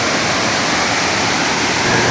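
A tropical waterfall at a resort pours with a loud, steady roar of falling water, a dense unbroken rush filling the whole span with no voices.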